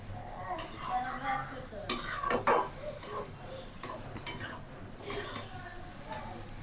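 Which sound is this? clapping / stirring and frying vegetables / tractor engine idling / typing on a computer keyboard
stirring and frying vegetables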